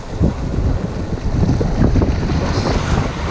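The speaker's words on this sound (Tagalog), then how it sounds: "Lakas ng hangin." Strong wind buffets the microphone at sea aboard a fishing boat, a loud continuous roaring rush with gusts and water noise underneath, no talk.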